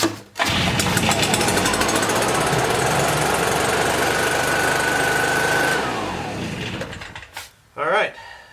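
Stihl BR420 Magnum backpack blower, just fitted with a cleared spark arrestor, fires up and roars at a loud steady run for about five seconds, then winds down and sputters out, with a couple of brief revs at the end.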